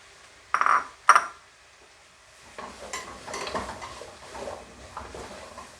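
Four carrots cut into rounds tipped into a pan of softened onions over low heat, with two sharp clattering drops followed by repeated stirring scrapes and a soft sizzle, close by, with no talking.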